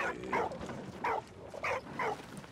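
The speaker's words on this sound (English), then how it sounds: "The dog does not like that pigeon." Dog barking at a pigeon in the World War I video game Valiant Hearts: about four short, sharp barks spaced evenly over a few seconds, fairly close, with no talking.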